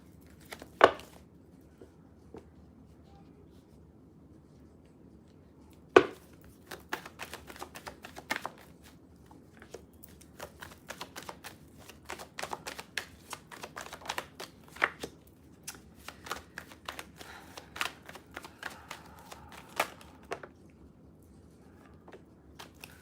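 Tarot cards are shuffled over a long stretch during a live reading, with scattered crisp riffling and slapping clicks, some louder sharp snaps and an irregular rhythm, close and dry.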